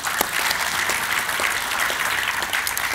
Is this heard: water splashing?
no